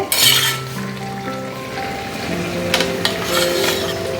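Lentil dumplings (bori) sizzle in a hot pan of oil, a steady frying hiss broken by stirring clinks and scrapes of a utensil, close and moderately loud with no talking.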